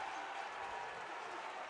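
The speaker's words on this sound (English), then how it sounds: "Vescovi receives a standing ovation from the orange and white crowd here in Detroit." Applause and a standing ovation rise from an orange-and-white Tennessee basketball crowd in a Detroit arena during an Elite Eight tournament game, a steady, distant wash of clapping and cheering that fills the whole short moment.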